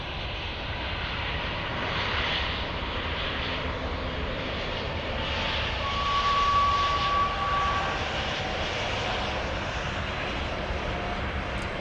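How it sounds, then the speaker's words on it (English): Boeing 787 Dreamliner taking off from runway 08L at Munich airport, heard as a distant, steady jet roar that swells slightly and then holds across the whole stretch. "We're going to have our first Dreamliner taking off on 8 left."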